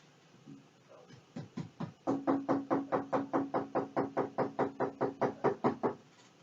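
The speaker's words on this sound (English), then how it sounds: "he goes to knock again" A police officer knocks on a house door in long, steady runs of firm raps, about twenty evenly spaced blows, close and loud, with no one talking.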